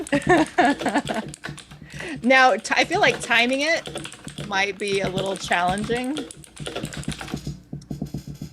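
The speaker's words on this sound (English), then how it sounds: "Ganon's typing furiously" Fast, busy clatter of keys on a computer keyboard runs throughout, close and continuous, beneath a person talking.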